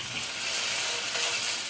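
Bitter melon, vegetarian meat, meatballs and tomato stir-fry in a hot pan with a steady, close hiss of sizzling that holds even and unbroken throughout.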